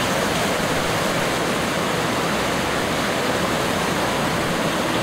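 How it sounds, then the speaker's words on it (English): Floodwater rushing past a swing bridge in a loud, dense, unbroken roar, steady and broadband like a waterfall, with no voices over it. "millions and millions of gallons of water rush by, driven by the fury of nature"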